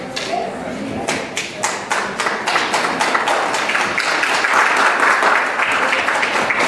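Audience applause at a church renewal ceremony with pastors present, a dense steady crowd of clapping swelling from a few early claps into a sustained, fairly loud ovation that continues throughout.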